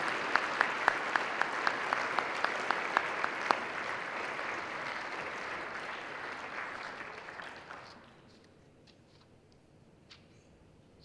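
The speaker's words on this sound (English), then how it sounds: "One more time, please, a round of applause for our award recipient." Audience applause at an awards banquet: a full room claps steadily for about eight seconds, then the clapping thins and fades to near quiet.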